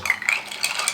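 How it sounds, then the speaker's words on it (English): A spoon stirring Irish cream syrup into cold brew coffee in a cup, a quick run of light metallic clinks and taps against the side. It is close and distinct, with no voices. "Stir that up"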